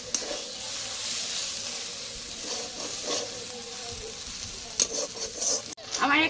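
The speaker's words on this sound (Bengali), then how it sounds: "দেখো আমি কিন্তু চিংড়ি মাছ আর রসুন পেঁয়াজ দিয়ে সুন্দরভাবে শাকটা ভেজে নিয়েছি" Water spinach fries with shrimp, garlic and onion in a pan, a continuous close hissing sizzle with intermittent stirring scrapes, ending in a clatter.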